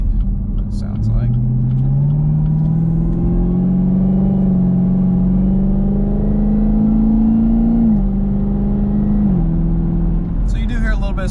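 A supercharged ZL1 Camaro with a cold air intake pulls through moderate acceleration: a loud, close engine drone rises steadily with a whining overtone, drops briefly at a shift, then climbs again before easing off.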